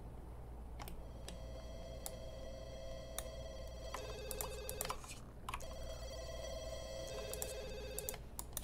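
A telephone rings inside The Sims 2, a repeating electronic ring tone in several bursts over a steady low background hum, fairly quiet and with no talk.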